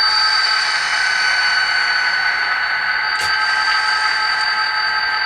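Model locomotive fitted with an ESU LokSound decoder playing an EMD 16-cylinder 645E3B diesel sound, a steady loud idling drone with a high tonal whine, one brief clunk near the end, no talking.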